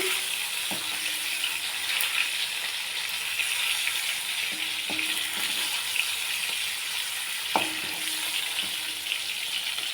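Fish frying in a pan, a continuous bright sizzle with a few soft knocks and scrapes of a utensil spaced through it, no voices.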